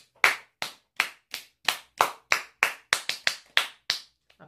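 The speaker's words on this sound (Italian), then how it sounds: "Un applauso." A dozen sharp hand claps in a steady, slightly quickening rhythm, close and loud, with no voices.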